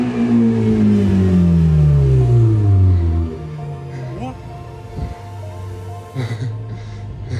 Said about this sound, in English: you hear the roar of the Ferrari come around the corner.